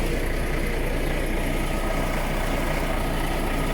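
A parked bus engine idling close by, a steady continuous low rumble with no breaks and no speech over it.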